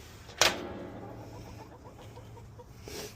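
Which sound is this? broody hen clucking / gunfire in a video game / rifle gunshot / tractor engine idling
broody hen clucking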